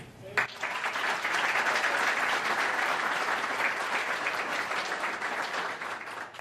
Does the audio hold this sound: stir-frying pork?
no